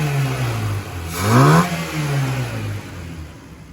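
A Passat 1.6 engine with a freshly tuned Weber 450 carburetor revs up once, rising to a loud peak and falling back to a steady idle, heard close and alone.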